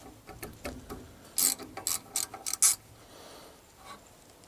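A socket wrench ratchets on a brake caliper bolt of a 2011 Ford F250 pickup, several quick sharp clicking bursts, near but fairly quiet, with no talking.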